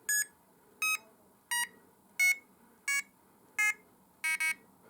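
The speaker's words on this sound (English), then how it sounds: "double beep to say you're at the end of the range" Chub Neuron T3 fishing bite alarm giving a series of sharp electronic beeps, about one per second, with a quick double beep at the end, loud and close against a faint background.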